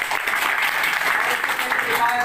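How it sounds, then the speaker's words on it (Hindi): An audience at a gathering breaks into loud, continuous clapping, a thick even roar of many hands held at full strength throughout, with a voice faintly mixed in. "आप लोग के लिए जोरदार ताली होना चाहिए।"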